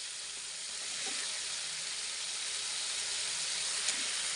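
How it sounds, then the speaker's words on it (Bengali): Capsicum and chicken frying together in a pan, a steady, even sizzle holding close and fairly loud throughout with no voices. "দিয়ে চিকেনের সাথে এগুলোকে ভালো করে ভেজে নিতে হবে।"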